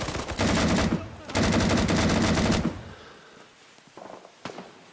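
AK rifle fire in the video game Rising Storm 2, two loud close bursts of rapid automatic shots, followed by quieter scattered distant shots and a few faint knocks.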